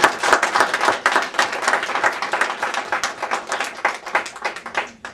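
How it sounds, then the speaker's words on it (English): Audience applause at the Antelope Valley rose ceremony held by One Legacy, a dense, steady wash of many hands clapping throughout, close and fairly loud with no talk over it. "You guys keep clapping for us as we get up here"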